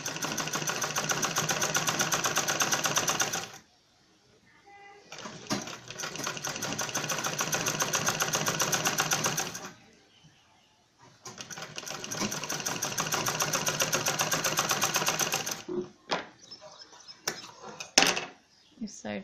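A sewing machine stitches a fur-lined cloth bag with a zip, running in two long steady bursts of rapid stitching separated by pauses, followed by a few brief clicks and short runs as the work is adjusted.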